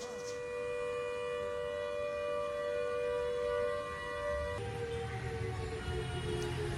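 Civil defense siren sounding for a mock drill, a sustained wailing tone with strong harmonics that holds steady then shifts pitch partway through, moderately distant and alone without talk.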